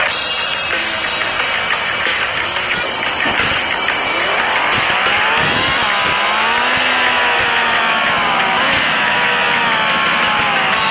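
Car driving in the video game Extreme Car, a loud continuous engine whine sweeping up and down in pitch as it revs, with a wide hiss of background noise throughout.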